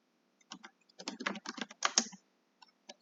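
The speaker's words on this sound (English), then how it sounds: "Now I'm going to just type watch" Quick bursts of clicking keystrokes on a computer keyboard, close and fairly quiet, clustered in a busy run of taps with short pauses before and after.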